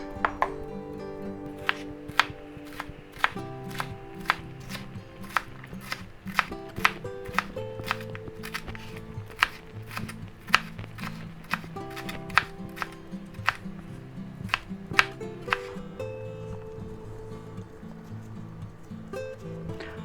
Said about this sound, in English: Okay, and then we'll chop that up.